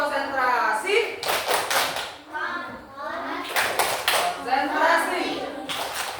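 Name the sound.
schoolchildren doing a rhythmic concentration clap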